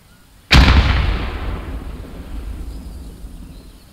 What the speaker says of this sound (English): an MG going off above his head